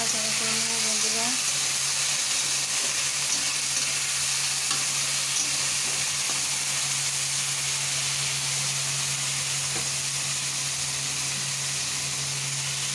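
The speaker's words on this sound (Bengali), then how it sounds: "বন্ধুরা অল্প করে আমি রসুন চুরানি দিয়ে দিলাম, অল্প করে আমি পেঁয়াজ চুরানি দিয়ে দিলাম।" Garlic, onion and diced potato fry loudly in a pan, a dense, constant sizzle with faint stirring beneath it and a low steady hum throughout. There is no speech.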